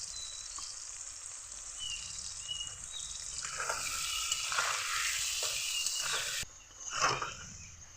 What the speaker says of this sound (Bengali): আলুগুলোকে ভালোভাবে ভেজে নিলাম, এখন তুলে নেব।